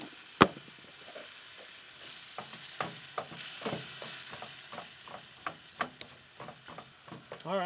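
Ground meat mixed with milk fries in a pan on a camp stove, a low sizzle broken by repeated clicks and scrapes of stirring, fairly close and quiet.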